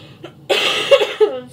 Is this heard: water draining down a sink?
no